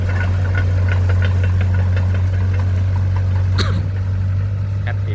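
Old Cat E70B excavator diesel engine running during a test, a steady loud low drone with a knocking, idling character throughout, with a brief faint clatter near the end.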